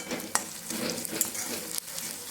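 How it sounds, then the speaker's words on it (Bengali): Onions frying in a pan, with a steady close sizzle and a few sharp scraping ticks of stirring. "পেঁয়াজগুলো দেখুন ভাজা হয়ে এসছে"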